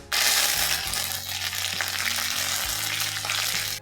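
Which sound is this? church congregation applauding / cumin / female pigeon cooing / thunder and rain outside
cumin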